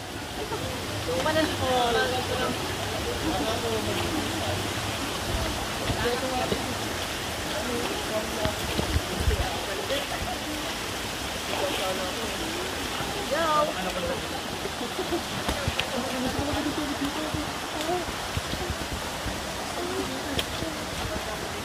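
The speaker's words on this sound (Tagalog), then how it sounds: "Nakagba, waterfalls." The Macagba waterfall gives a steady, loud, broadband rush of falling water that fills the whole scene without pause, with people talking faintly beneath it.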